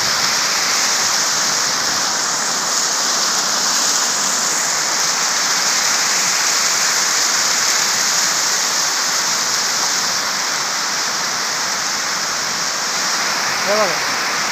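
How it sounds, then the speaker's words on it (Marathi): A large volume of rushing water roars loud and unbroken from start to finish, a dense close-up torrent like a swollen stream or waterfall with no pauses. "हे बघा पाणी किती आहे मोठं."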